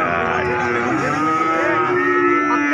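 Cattle moo loudly in drawn-out calls at a busy livestock market in Jaken, Pati, several animals overlapping against constant crowd murmur.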